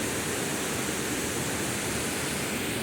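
Water pours over a partly broken check dam, a loud, steady, unbroken roar of rushing water that fills the whole stretch without pause.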